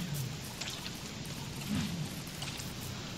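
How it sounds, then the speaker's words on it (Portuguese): Frogs raining down in the video game Don't Starve, a faint patter of drops over a soft rain hiss with a few light splats, alone and without talk. "E tá chovendo sapo."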